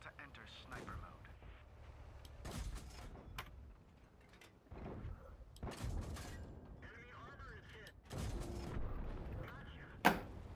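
Tank cannon fire in World of Tanks: several sharp booming shots arrive at irregular intervals, a loud close blast near the end, over in-game engine rumble with a player talking throughout.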